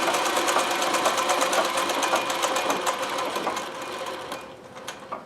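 A Consew CN2053R-1A industrial sewing machine runs loud and steady during free motion embroidery, a harsh mechanical clatter with rapid stitching rhythm that slows and fades near the end.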